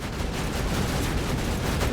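A rocket pod firing in the video game Borderlands 2, a dense, loud, continuous barrage of rapid blasts and explosions that blend into a roaring rumble throughout.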